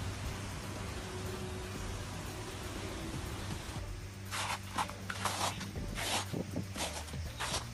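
Large hailstones fall on a road west of Abha, Saudi Arabia: a steady broad hiss, then a denser run of sharp, scattered impacts from about midway, loud and close.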